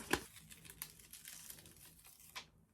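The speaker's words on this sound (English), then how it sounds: "I am just going to hook with my weeding tool and then pull away that excess" Excess adhesive vinyl peeled away with a weeding tool after a Cricut machine cut, giving close, soft crinkling and tearing rustles with a sharper crackle near the start and another near the end, with no one talking.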